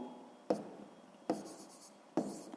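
A pen writes out a sixth-grade math exercise by hand, giving three short scratchy strokes on paper at roughly even intervals, close and quiet, with no speech.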